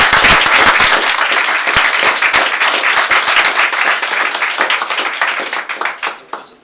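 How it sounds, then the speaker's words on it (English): A large audience at a website launch evening gives a loud, sustained round of applause for Thomas Reid-Muller, dense clapping holding steady and then thinning and tapering off toward the end. "How about a huge round of applause for Thomas Reid-Muller."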